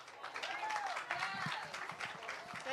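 Audience applause at a groundbreaking ceremony for a food commons project, a broad wash of clapping lasting a few seconds with a voice talking over it.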